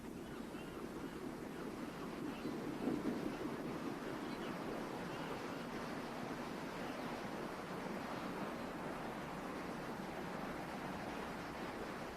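Waves on Lake Ontario wash steadily against the shore in a constant, moderately loud surf roar mixed with wind, with no distinct voices.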